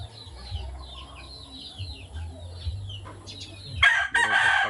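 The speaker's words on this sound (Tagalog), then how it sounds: "Daming alaga dito ng manok ng aking bayaw." Several chickens cluck and chatter nearby, with low murmuring underneath, ending in a louder burst of squawking calls.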